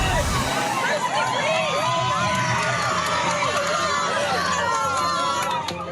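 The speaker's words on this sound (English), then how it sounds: "the crowd outside the San Mateo County Courthouse in Redwood City, California, celebrated Scott Peterson's guilty verdicts" A crowd gathered outside the San Mateo County Courthouse in Redwood City, California, cheers and shouts in celebration of guilty verdicts, with whoops and babbling voices mixing into a continuous loud roar.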